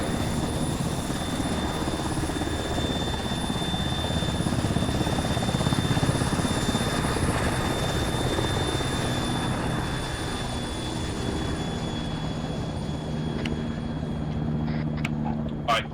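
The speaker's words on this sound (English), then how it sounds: "Set up secured around the helo. Wait for it to take off" A video game helicopter spools up and takes off, a loud steady rotor drone with a high whine close by, fading slightly near the end, with faint clicks and brief voices underneath.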